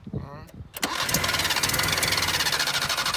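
A 1978 Datsun 1500 ute (GN620), run for the first time in 20 years, cranks briefly after a short voice, then catches and roars into a loud, steady, slightly uneven idle that continues to the end.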